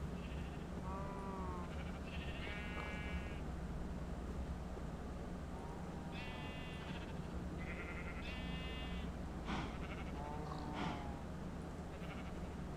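Pig and other farm animal grunts and bleats in a Minecraft-based game called CryptiCraft, several short calls scattered over a steady background hum, moderately faint and with no talk.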